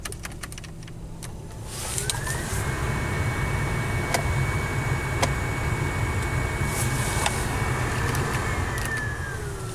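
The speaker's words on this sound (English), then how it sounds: "Blower motor." Blower motor of a Nissan Pathfinder running, a steady whooshing hum that ramps up after a couple of seconds and holds with a faint whine, engine idling underneath.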